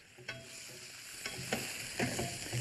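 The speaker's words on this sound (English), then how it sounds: "After that starts to sizzle, we add some strips of beef." Beef strips with snow peas, onions and red peppers sizzling in a pan, a steady frying hiss broken by several stirring scrapes and clinks, close and without talk.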